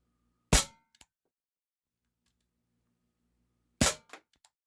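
Two sharp metallic clangs about three seconds apart ring out as BBs fired from a CZ 75 P-07 Duty airsoft pistol strike the bottom of a tin coffee can in a basement, and each clang is followed by small ricochet clicks.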